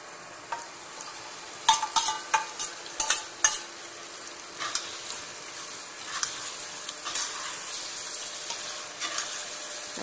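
Mutton frying with masala in a pot for dum biryani, stirred with a utensil that scrapes and clanks in sharp irregular bursts over a soft steady sizzle, close by and with no talking.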